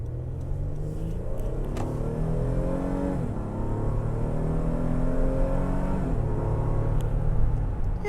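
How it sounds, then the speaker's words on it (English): A 2023 Honda Pilot TrailSport SUV pulling away from a stop, its engine note climbing through several rising sweeps as the gears change, with a steady rumble underneath, heard from inside the cabin. "We're gonna see what the pickup is like from a stop."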